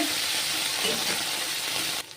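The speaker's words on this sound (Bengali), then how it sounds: "বাকি ভিন্ডিগুলো ভেজে নেব একইভাবে" Okra pieces frying in hot oil give a steady, dense sizzle that holds evenly for about two seconds, then drops to a quieter hiss.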